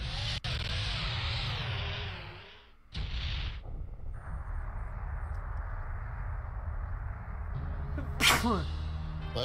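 A single sharp sneeze bursts out near the middle over a steady low rumble of game sound, followed later by a second brief, bright burst.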